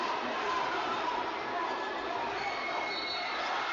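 Steady crowd noise fills a high school varsity boys basketball gym, a dense, continuous roar of many voices with no single standout sound, holding level throughout.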